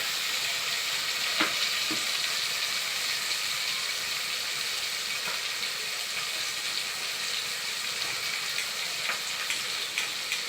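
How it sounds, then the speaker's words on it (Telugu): Onions frying in oil for Maharashtrian-style lapsi rava upma, an even, bright hiss of sizzling that holds steady throughout, with a few faint clinks of stirring. "ఇవన్నీ కూడా గోల్డెన్ ఫ్రై అవ్వాలి."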